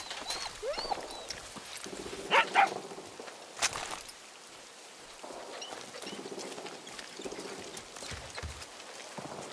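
A dog in the video game Far Cry 6 gives a few short barks and yelps near the start, then quieter sniffing and padding follow against a soft ambient game background.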